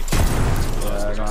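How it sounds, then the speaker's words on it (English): A short burst of rapid gunfire in the Apex Legends battle royale game, loud and dense over low rumble, with a player talking. "They're shooting us."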